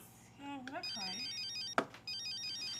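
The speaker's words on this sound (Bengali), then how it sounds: "আচ্ছা আচ্ছা দাঁড়াও আমি আমি ফোন ধরছি" An electronic phone ringtone trills in a repeating high-pitched pattern, preceded by a brief voice and interrupted once by a sharp thump.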